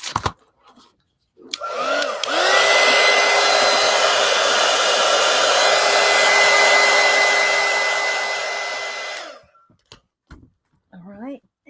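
A hair dryer is switched on to dry paint on a collage art journal, blowing a loud, steady, close whoosh for about seven seconds before shutting off, with brief speech around it.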